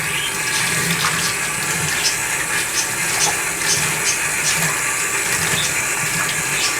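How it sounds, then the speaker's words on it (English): Water running steadily while rinsing conditioner out of hair, a continuous hissing splash with faint shifting patter as the flow moves, loud and close throughout. "Wash every trace of it away."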